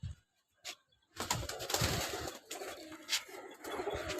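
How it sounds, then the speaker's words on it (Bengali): Female pigeons just released from a cage at home coo softly, with rustling and wing flaps in a rush of close bird noise after a brief quiet start. "এই যে এক খাঁচার মাদি কবুতরগুলা ছেড়ে দিছি"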